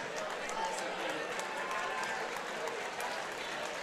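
Crowd at a DCS 84 combat sports event cheering and applauding for two fighters, a steady dense roar of claps and noise filling the whole stretch with an announcer's voice over it.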